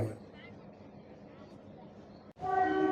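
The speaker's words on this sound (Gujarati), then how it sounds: "આ ટ્રેન રવાના થઈ જૂનાગઢ માટે" A meter gauge train pulls out of Visavadar station bound for Junagadh, its horn blaring loud and sustained near the end after a low rumbling idle of the waiting train.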